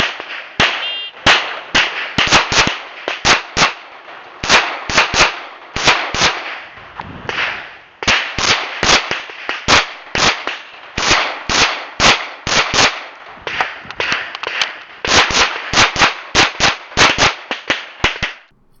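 Pistol shots ring out in rapid strings during a USPSA Carry Optics stage, dozens of loud, sharp cracks fired in quick bursts with brief pauses between target arrays, each report close and dominant.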